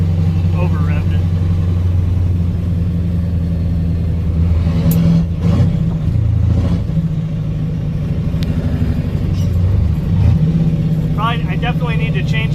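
A 1985 Ford F-8000 with a CAT 3208T diesel engine idles roughly on a cold start, a loud, close, low rumble with a few brief revving surges, while a person talks over it.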